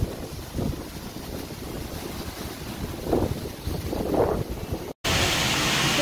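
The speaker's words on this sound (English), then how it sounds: "So these are some very popular waterfalls." Söderhallan Falls, a popular waterfall you can walk behind, gives a steady broadband rush mixed with gusty wind buffeting the microphone, continuous until a brief cutout near the end.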